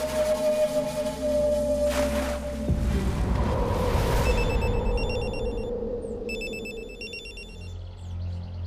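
A telephone rings in a Hindi TV serial scene, repeated electronic ring bursts sounding clearly in the second half over a low rumbling background.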